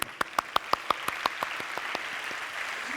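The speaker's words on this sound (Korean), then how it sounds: "네, 박수." A church congregation at a winter youth camp's Wednesday worship service claps in a quick, even rhythm. The claps are loud and sharp at first, then fade and thin out until they die away.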